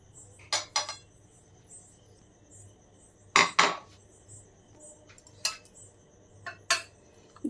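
Dhuska, a traditional Ranchi fried snack, being served onto a plate: several sharp clinks and scrapes of utensils against the dish come in separate bursts over a quiet background, with no talking.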